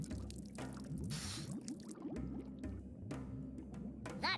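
Water splashes and liquid drips from the Worms Revolution video game, with short wet bursts and gurgles over steady game background sound at moderate level.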